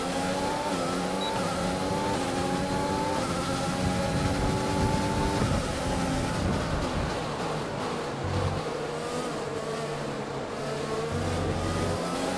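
A Formula 1 race car in the F1 2020 video game drones steadily at the Dutch circuit, its engine note sweeping up and down through gears, loud and continuous for the whole stretch with no talking.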